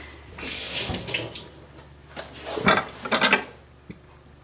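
Food rinsed under a running kitchen tap, close splashing water that swells and breaks in uneven bursts as items are moved through the stream, with light clatter in the sink.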